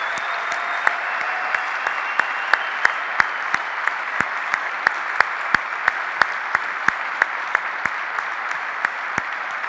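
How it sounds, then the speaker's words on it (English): Steady audience applause fills the whole stretch, dense and sustained, with sharper individual claps standing out at irregular moments throughout. "A huge round of applause, please."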